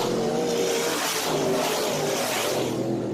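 Race cars lap a dirt oval at a Gator Nationals Saturday program, a steady, loud drone of several engines roaring together with whining harmonics rising and falling as the field passes.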